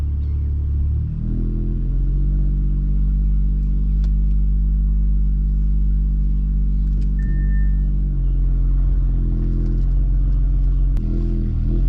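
Modified Audi RS5 with a full exhaust driven in sport mode, a loud, deep engine drone that steps up and down in pitch through gear changes, heard from inside the car with no talking.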